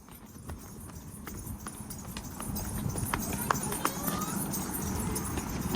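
A horse's hooves clip-clop in a quick, uneven rhythm at moderate distance in a village, while a person's voice calls out over the hoofbeats.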